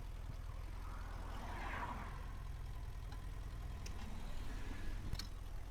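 A BMW F700GS motorcycle engine idles steadily at the roadside, a low constant rumble close by with no talk over it and a couple of faint clicks near the end.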